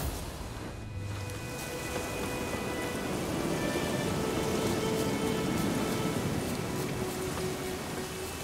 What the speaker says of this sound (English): Let it rain. Wash the blood from the fields.